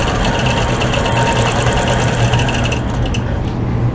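A quilting sewing machine stitches steadily in stitch-regulated mode at 10 stitches per inch, a loud, close, continuous motor whir with a fast even needle rhythm and no talk.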